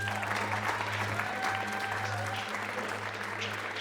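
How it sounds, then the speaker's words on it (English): Applause from attendees at a golf day event, steady scattered clapping at moderate distance over a low hum, lasting a few seconds without talk. "Can we once again give Mr. Mpho a hand of applause?"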